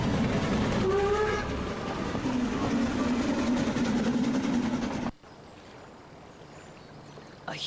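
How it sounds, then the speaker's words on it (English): An abandoned train in the adventure game The Night of the Rabbit gives a steady rumbling rail-car drone with a faint whistle-like tone, running loud and continuous before cutting abruptly to a quiet, hissy ambience. "huge abandoned. The train."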